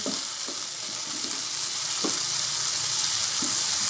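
Eggplant sautéing in a pan, a dense, steady hiss of frying with occasional soft knocks of a spatula, close and continuous with no voices.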